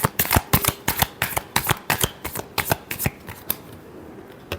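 Tarot cards being shuffled by hand, a rapid run of crisp riffling flutters and soft slaps repeating close to the mic, trailing off toward the end with no talking.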